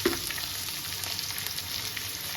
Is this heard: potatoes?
yes